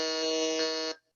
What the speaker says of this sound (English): Aditya D on the buzzer